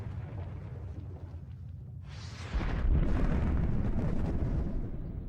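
Documentary sound effect of explosions during Earth's formation: a low, rumbling roar that surges into a deep, sustained blast around midway and keeps booming, like distant eruptions or thunder.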